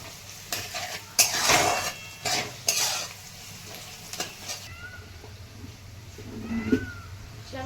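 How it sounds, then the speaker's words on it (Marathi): Onions sauté in a pan to make a dry potato dish, with sharp metal spoon scrapes and stirring clatter over a low sizzle, close by, and a cat meows briefly in the background near the end. "कांदा छान परतलेला आहे"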